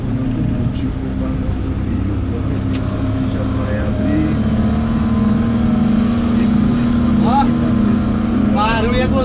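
A loud engine idles with a deep, steady rumble, occasionally revving up, with voices talking nearby over the noise.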